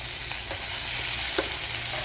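Vegetables and cherry tomatoes fry in leftover oil in a pan, a steady loud sizzle with faint stirring clicks and no voices.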